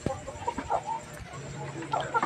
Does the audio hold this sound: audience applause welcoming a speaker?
no